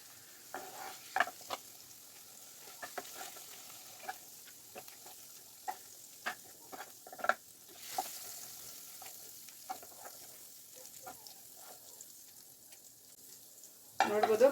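Paneer frying in a pan while being stirred, a quiet sizzle under a run of sharp scraping and clinking strokes, with a louder burst of activity at the very end.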